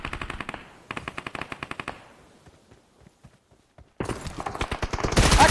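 Rapid bursts of PP-Bizon submachine gun fire in a PUBG-style battle royale shooter, several volleys of close automatic shots separated by a short lull, ending in a louder, denser barrage.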